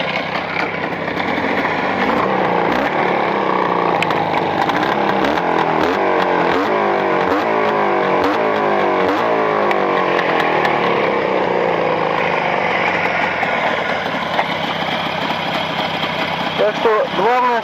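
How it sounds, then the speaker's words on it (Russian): Motorcycle-type engine running hot during break-in on Chinese-made cylinders in +40 °C heat, a loud continuous close idle with a busy mechanical rattle and shifting revs, plus a sharp clatter near the end. "Так что мотор в режиме"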